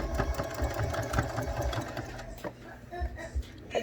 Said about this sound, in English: I'm going to go ahead and sew all the way around and we'll see where we're at